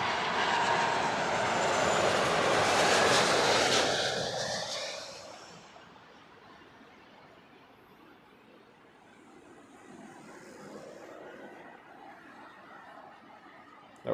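A Tianjin Airlines Airbus A330 landing at Heathrow gives a loud, broad jet roar that holds for several seconds near the start, then fades into a low distant rumble with faint background noise.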